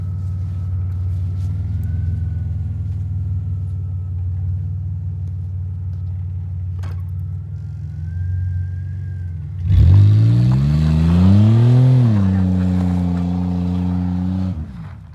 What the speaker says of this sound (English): I want to see the rear tire spin.